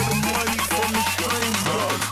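Lead synth patch built in Serum as a remake of the lead from a track, playing a loud, steady rhythmic phrase over a pulsing low bass with no voices.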